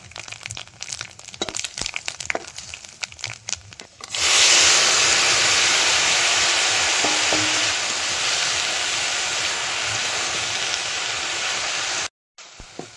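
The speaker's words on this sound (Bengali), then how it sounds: "এবার তেলের মধ্যে শুকনো লঙ্কা আর সর্ষে দিয়ে দেবো। পাঁচ ফোড়ন," Dried red chillies, mustard seeds and five-spice seeds hit hot oil with a sudden loud burst of sizzling that settles into a steady close crackle for about eight seconds, following quiet handling sounds, in a Bengali prawn dish.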